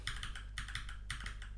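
Someone types dd on a computer keyboard while editing in Vim: three quick bursts of crisp, close key clicks with short pauses between them.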